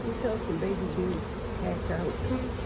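Honey bees buzz steadily around an open hive during an inspection of frames with brood and fresh pollen, a close, continuous drone with shifting pitch and no pauses.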